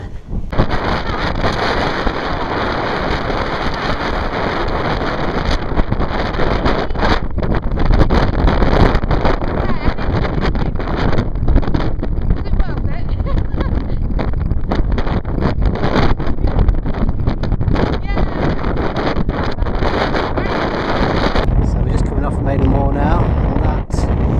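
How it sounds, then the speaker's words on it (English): Strong, relentless wind on a Lake District fell near Cat Bells roars and thumps against the microphone for a long stretch, gusting hard and unevenly, easing slightly near the end. "But it's incredibly windy"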